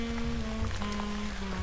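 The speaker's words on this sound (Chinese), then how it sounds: "最近天气真的很不好，一直在下雨。" Soft continuous rainfall hissing in The Sims 4 video game, fairly faint beneath gentle background game music.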